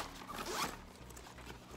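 A single continuous zip rasps for under two seconds as the expansion zipper on a packing cube is pulled open, close and clear with no talking.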